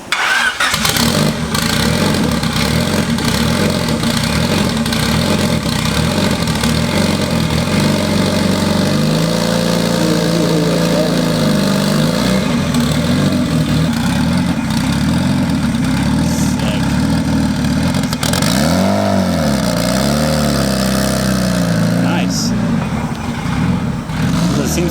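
A car engine with a hydro-bearing-to-cable transmission conversion runs steadily throughout, a continuous loud drone with shifting revs as it pulls away and changes load, with faint voices in the background.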